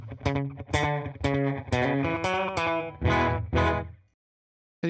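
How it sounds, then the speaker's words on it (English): An electric guitar through a slapback delay effect plays a series of choppy, distorted chords and notes, each followed by a tight, quick echo, ending in sudden silence. "reduce the time and the repeats, and we have instant slap"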